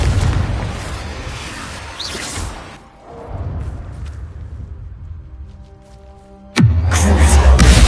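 Spell blasts in a wizard video game: a loud rushing roar that dies away, then a second rumbling burst with a whooshing tail, and a sharp sudden boom near the end.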